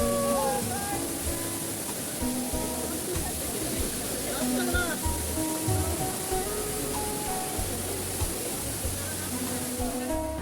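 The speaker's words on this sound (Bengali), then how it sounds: "দেখেন, ও খুব সুন্দর একটি ঝর্ণা" Koiyachara waterfall roars as a constant broad rushing of water, loud and near, with several people talking excitedly over it throughout.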